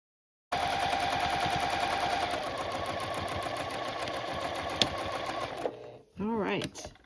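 A sewing machine stitches quilt binding, its needle running a steady, fast, close rattle for several seconds before stopping, then a brief whirring burst follows.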